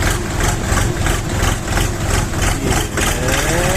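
KENTAVR 24 hp mini tractor engine running close and loud, a throbbing diesel chug with a regular pulsing rhythm and no talk over it.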